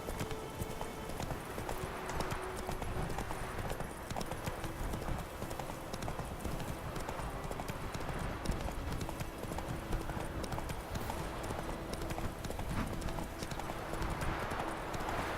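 Hooves of the horse Roach galloping in The Witcher 3 video game, a dense, continuous rapid drumming of hoofbeats over steady ambient game noise, moderately loud throughout, with a faint whinny possible and no clear speech.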